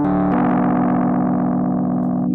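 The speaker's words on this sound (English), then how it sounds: "you're just adding distortion" A sustained tone runs through a distortion and saturation plugin, coming out thick, buzzing and harmonically dense. It plays loud and steady without a break, and the top end drops off briefly after a short initial section.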